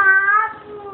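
A cat lets out a single drawn-out, clear meow close by, loud at first and then tapering off, with nobody talking over it.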